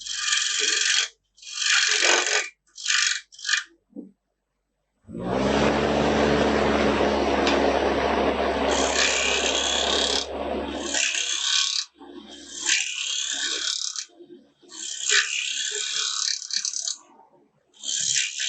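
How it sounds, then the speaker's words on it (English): A wood lathe turning a wooden oriental-style box, sped up: a steady motor hum with low droning harmonics carries on for several seconds, with bursts of hissing, scraping cuts before and after. "You guys can hear that I turned the lathe up a bit more."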